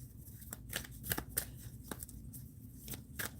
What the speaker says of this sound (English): Shuffle my cards for Bobby and then roll the dice for Bobby.